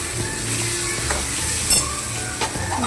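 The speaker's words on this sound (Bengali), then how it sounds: "দেখো এখানে তেল ছেড়ে দিয়েছে, আরও কিছুটা কষিয়ে নেব" Spice paste of green chilli frying in oil for a chickpea and potato curry, a steady close sizzle with occasional stirring scrapes throughout.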